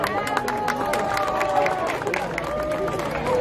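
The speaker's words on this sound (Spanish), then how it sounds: "¡Fuerte el aplauso!" A crowd at a Day of the Dead altar display in Guerrero, Mexico, cheers and claps amid lively chatter and shouting voices, a busy festive din.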